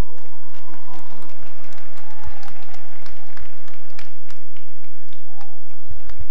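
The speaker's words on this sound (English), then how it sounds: "Please a round of applause for that." Audience applause during a university convocation ceremony at Afe Babalola University, a broad wash of many clapping hands that stays steady from start to finish, with a voice faintly audible underneath.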